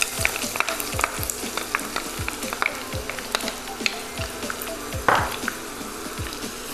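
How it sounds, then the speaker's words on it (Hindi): Two finely chopped onions frying in hot oil, a close, steady sizzle punctuated by rhythmic spatula scrapes against the pan. "अब हम इसमें 2 बारीक कटे हुए प्याज डाल देंगे"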